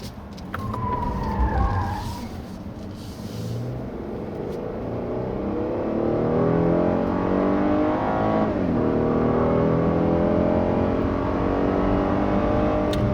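A 2016 Hyundai Genesis 3.8 HTRAC's engine revs up steadily as it accelerates, the pitch climbing through gear changes, loud and close, with a brief high whine early on.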